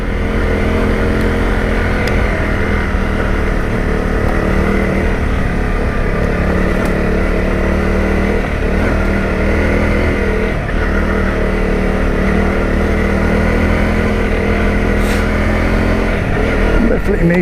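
A Honda CRF250 Rally motorcycle rides off road, its engine droning steadily and loudly throughout with small shifts in pitch and a faint rattle, and no gaps in the noise.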